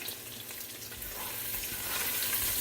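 Sausages browning in a pot for keto cabbage soup, giving a close, continuous hissing sizzle that swells slightly toward the end of the short stretch, heard alone.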